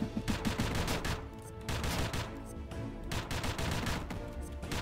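Revolver gunfire from the video game Dungreed pops in rapid clusters of shots, with a brief lull and several quick volleys over busy game sound effects.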